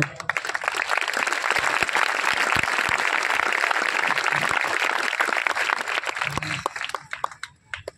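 A congregation at an Odia Christian church service claps together, forming a dense, continuous wash of hand claps that holds steady for most of the stretch before thinning out near the end.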